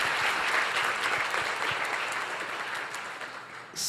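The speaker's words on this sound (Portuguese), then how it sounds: "Aplauda o nome do Senhor." Worshippers in a church service clap to honour the name of the Lord, a steady wash of close applause lasting a few seconds and slowly tapering toward the end.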